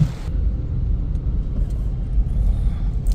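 A diesel Mahindra Scorpio accelerates on a rainy road, its engine a heavy low rumble that stays loud and close from inside the cabin, with a faint steady hiss of rain and tyre noise underneath.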